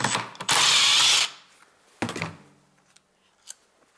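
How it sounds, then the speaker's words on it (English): A bolt loosened on an intake manifold, with a loud, steady burst of a power tool for about a second, then a few sharp metallic clatters and knocks that trail off into quiet. "now I can open this bolt in here"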